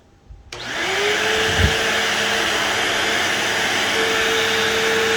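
A Bissell CleanView II (3574) upright vacuum cleaner switches on after a few clicks, and its motor spins up into a loud, steady whirring roar with a faint whine that holds to the end.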